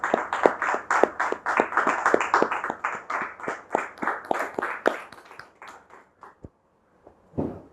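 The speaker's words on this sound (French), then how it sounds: "c'est avec justement des encouragements, des applaudissements que nous allons lui dire welcome et akwaba à cette émission." Studio audience clapping to welcome a guest on a talk show, a few sharp, rhythmic claps that thin out and stop, then one last brief burst.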